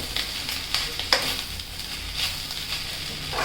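Garlic and salt frying in a pan while being stirred, a steady low sizzle broken by a few sharp scrapes and taps of the spoon against the metal.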